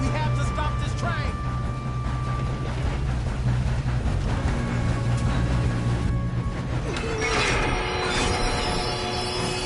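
Moving train in a video game, a continuous loud rumble of wheels on rails with metallic squeals and clatter, with game voices speaking over it.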